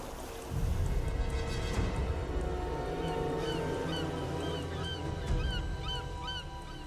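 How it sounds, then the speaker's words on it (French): Gulls cry repeatedly over a lagoon, several short squealing calls in an irregular rhythm above a steady rumble of water and wind. "Il y a des mouettes."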